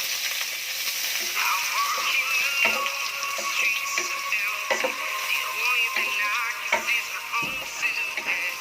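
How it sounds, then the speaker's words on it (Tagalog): Garlic frying in hot cooking oil for a Filipino ginataang pakbet, a steady close sizzle with faint crackles and occasional sharp ticks from stirring throughout. "Mantika na, ilagay na po ang bawang."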